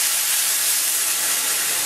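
White wine poured into a hot pan of onions and garlic for steamed Prince Edward Island mussels, giving a steady, loud, broad hiss and sizzle that runs unbroken throughout with no talking.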